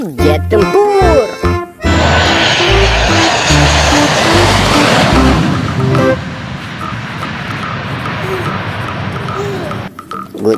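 A toy fighter jet gives off a loud, close engine roar that holds steady after a short burst of sound effects, then thins out and fades near the end.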